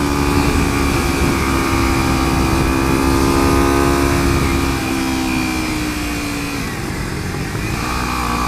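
Kawasaki Ninja 300 motorcycle with Woodcraft clip-on bars accelerating out of a low gear, a loud, close engine drone whose pitch climbs steadily and then drops at a shift.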